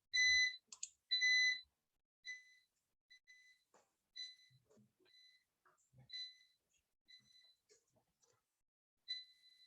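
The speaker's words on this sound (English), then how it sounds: "my UPS is beeping" A UPS battery backup beeps in a room, repeated short high electronic tones in a steady on-off pattern, fairly close and distinct over quiet background.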